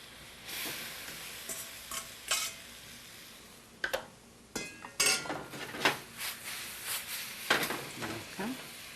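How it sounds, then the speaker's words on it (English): Pasta tossed and stirred with sauce in a hot pan, with soft sizzling, scraping of a utensil and sharp clinks against the pan in uneven bursts, close and fairly quiet. "in a nice hot pan, let's put some of the sauce"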